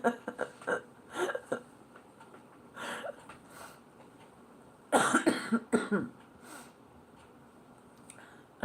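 Harsh coughs from a person with a stuffy head and congested chest during a relaxed trivia night, coming in scattered bursts with a heavier cluster in the middle and quieter sniffs or throat noises in between.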